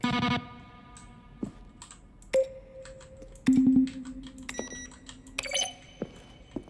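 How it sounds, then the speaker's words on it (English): Button press sounds from The Stanley Parable: Ultra Deluxe, each a keyboard click layered with a synthesized tone. A series of separate beeps and clicks rings out clearly, some held as steady tones and others short blips, with no talk. "A selection of the sounds used throughout the game when buttons are pressed. Each sound is a mix of a keyboard stroke and a synthesized tone."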